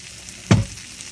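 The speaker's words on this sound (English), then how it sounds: "Fry that baby up because we want these fried." Pork meat frying in olive oil gives one sudden loud burst of sizzle that quickly fades back into a low steady hiss, close up and with no voices.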